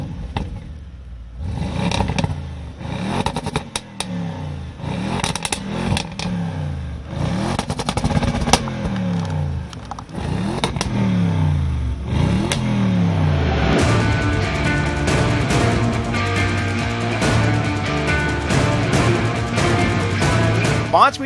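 An Audi RS7 Performance engine revs repeatedly in a rising and falling pattern, loud and close, then settles into a steady, strong drone with music laid over it.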